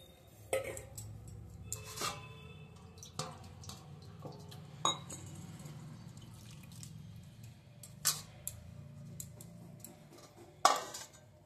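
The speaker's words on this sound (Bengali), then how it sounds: "এবার এই জলটাকে ফেলে দিচ্ছি। আবারও একবার জল দিয়ে ধুয়ে নিচ্ছি।" Water splashes and drips as chopped bottle gourd is rinsed in a bowl, with scattered clinks of the vessel and faint trickling, fairly quiet and close, with no voices.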